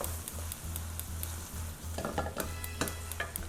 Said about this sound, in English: So add the ground beef. Break the meat into crumbles